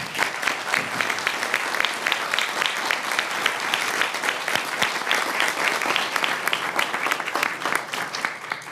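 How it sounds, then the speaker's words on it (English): A crowd applauds steadily at a city council meeting, dense clapping from many hands filling the room at an even, sustained level throughout. "So just want to give these young adults a round of applause."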